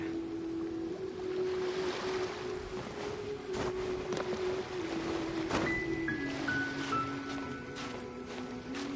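Calm sea waves in Genshin Impact wash and lap softly and continuously. A light watery rush sits under gentle tonal in-game music.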